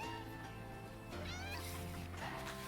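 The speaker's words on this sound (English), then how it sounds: "Barn cat in the house." A barn cat meows repeatedly, close and clear, its drawn-out wavering cries rising and falling over a steady low background hum.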